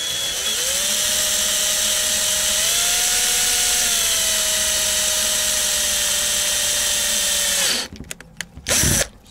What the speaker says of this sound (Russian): для номера просверлили обычным сверлом